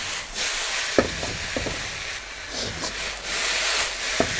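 Homemade Singapore-style chili sauce with garlic frying in a wok, a steady loud sizzle and hiss with scattered scraping stirs and clatters, no talking.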